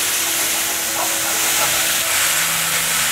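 Mushrooms and tofu stir-frying in a hot wok, a loud, steady hiss and sizzle that runs unbroken from start to finish, close up, with a faint voice underneath.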